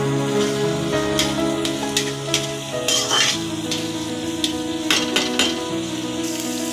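Bottle gourd and prawn curry sizzles steadily in a pan while a spatula stirs it, with scraping and light clinks of utensil against metal rising over the constant close frying hiss.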